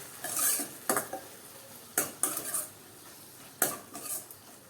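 Spoon scrapes and taps against a cooking pan as salt and turmeric are mixed into onions and tomatoes, a few distinct clanking strokes spaced about a second apart with quiet gaps between.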